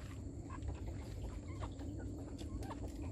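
Chickens in a coop, Peruvian-type fowl on a farm in Dong Thap, Vietnam, give soft, faint clucks and scattered calls over a steady low rumble of background noise.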